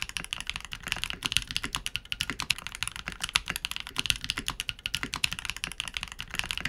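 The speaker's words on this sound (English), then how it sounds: "I would recommend to build the brass plate with the case foam as it takes out the hollowness and kind of increases the clacky features" A Vanguard 65 mechanical keyboard with a brass plate and case foam is typed on rapidly and continuously, giving close, crisp, clacky keystrokes in a busy, even rhythm with no talking.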